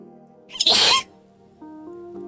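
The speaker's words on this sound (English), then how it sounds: "I need to sneeze." One loud, abrupt human sneeze bursts out close to the microphone, followed by a quiet hum in the room.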